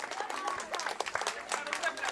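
Fans and players clap after the Poland versus Slovakia lacrosse final, a continuous wash of applause from the crowd with a voice talking on top.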